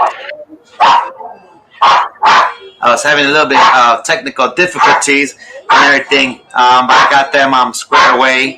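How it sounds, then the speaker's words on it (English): Dog sitting in a home, barking in the background under a person talking steadily through the whole stretch, with short bursts between phrases. "I excuse the dog in the background."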